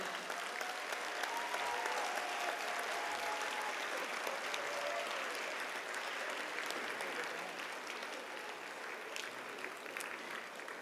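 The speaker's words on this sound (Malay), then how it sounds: "Berikan tepukan yang paling gemuruh buat ibu bapa dan para pensyarah kita" Graduates standing in a hall at a Malaysian university convocation give sustained, thunderous applause for parents and lecturers, a broad, even roar of many hands that carries on without a break and fades slightly toward the end.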